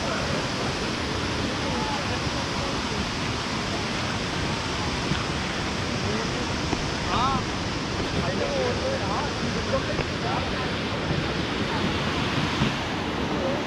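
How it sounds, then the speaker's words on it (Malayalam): Powerful river water rushes over rocks at the Aanachadikuth waterfall near Thommankuth in Idukki, a steady, dense roar that fills the whole stretch, with faint voices briefly audible beneath it. "അവിടെ നിന്ന് നല്ല പവറിലാണ് വെള്ളം പോകുന്നത് കേട്ടോ."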